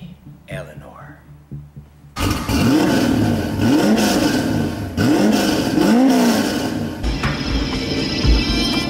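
Eleanor Mustang at a classic car event in Japan revving its engine in loud repeated bursts, each rising and falling pitch sweep following quiet murmuring at the start, with crowd noise around.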